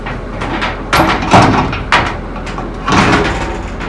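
Metal-framed glass shower door being hung onto its track, giving several knocks and sliding clunks close by, with one sharper bang near the middle and a later rattle.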